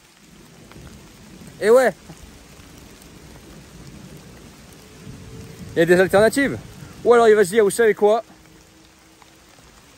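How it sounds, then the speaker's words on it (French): Steady heavy rain with rumbles of thunder during a sudden outdoor downpour, a continuous wash of noise with someone speaking in bursts over it. "j'ai des tonnerres qui sont arrivés, une pluie de fou"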